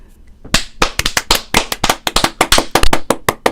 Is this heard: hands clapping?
yes